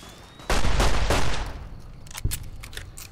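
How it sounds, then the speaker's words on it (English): Enemy gunfire in Fallout: New Vegas, a sudden loud burst of shots with booming impacts, followed by a few scattered fainter cracks. "The hell is shooting at me?"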